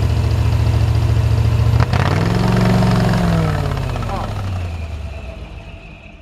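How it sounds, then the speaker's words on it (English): A Kohler engine on a 2012 Dragon 4047 pump-out truck runs at a steady, loud idle, then its pitch climbs as it revs up before gradually easing and fading toward the end. "We're gonna increase the RPM just like the other Kohler engines."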